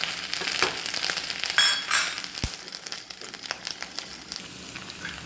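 Grated coconut hits hot coconut oil with crackling mustard seeds, giving a close, steady sizzle and fry with scattered sharp pops and faint clinks of a utensil against the pan; no voices.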